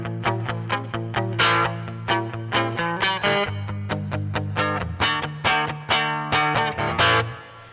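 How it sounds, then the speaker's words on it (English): Electric guitar through a NUX Amp Academy amp modeler with reverb on and delay off, playing a steady rhythmic pattern of strummed and picked notes, each attack ringing out into a short reverberant tail, loud and close with no talking. "I'm going to turn off the delay so you can just hear the reverb"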